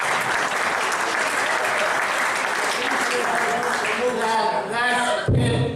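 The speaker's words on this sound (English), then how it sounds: "I recognize pity applause." An audience at a sports hall of fame induction ceremony applauds fully. The clapping thins near the end as a speaker's voice comes in.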